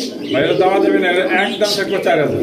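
Pigeons coo steadily in a trader's loft, a loud, close, throaty warble that continues throughout under a voice.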